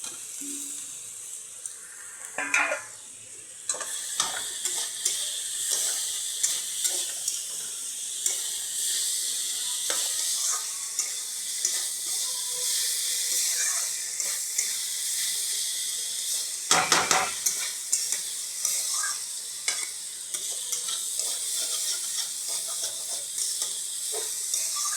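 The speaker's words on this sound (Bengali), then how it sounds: "এবার সবগুলো একসঙ্গে কষাবো। এর মধ্যে এবার আলুগুলো ছেড়ে দেব।" Banana flower, potatoes and prawns being sautéed together in a pan give off a continuous bright sizzle with occasional stirring scrapes and clatters throughout, no voices.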